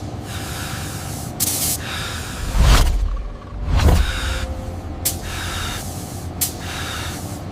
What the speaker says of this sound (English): Each layer is applied by robotic systems equipped with high-speed rotary atomizers, spinning at tens of thousands of revolutions per minute to create a fine mist